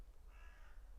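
A crow caws once, a faint harsh call heard from a distance over a low rumbling background.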